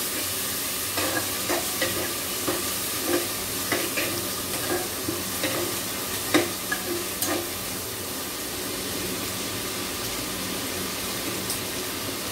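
Onion and tomato fry in a pan for dal, a constant sizzle broken by a series of short scraping stirs from a spoon, close and alone with no voices.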